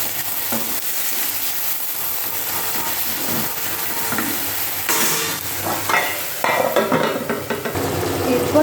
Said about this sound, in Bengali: এরপর শাকটাকে ভালো করে নাড়াচাড়া করে আমি ভেজে দেবো।